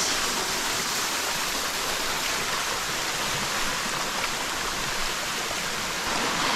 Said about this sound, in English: Ah, another river.